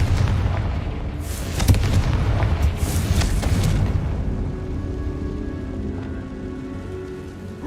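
Confringo fire blast spell in Hogwarts Legacy, a loud booming explosion with crackling debris in the first few seconds, fading into a low rumbling ambience.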